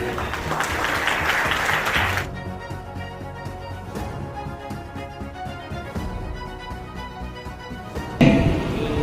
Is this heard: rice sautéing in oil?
no